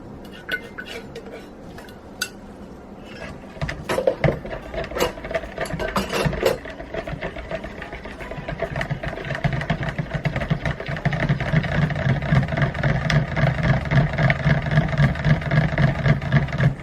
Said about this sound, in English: I'll blend that up a little before I add the essential oils